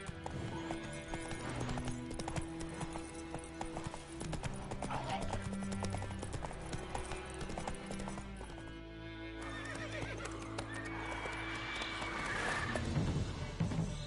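Roach the horse trotting in The Witcher 3, steady clip-clop hoofbeats running throughout with a neigh breaking through, set against game music and ambience, with a brief voice heard.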